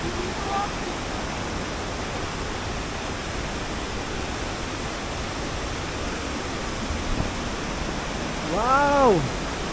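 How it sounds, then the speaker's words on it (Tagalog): Aloha Falls in Carranglan, Nueva Ecija, pours with a steady, broadband roar of falling water, constant and enveloping, while a person's voice briefly rises over it near the end. "Tingnan mo naman yung bagsak ng tubig"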